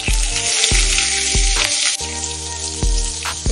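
Spices and onion pieces sizzle steadily in hot oil for a snake gourd fry, a loud, continuous crackle with low thumps from stirring repeating every second or so.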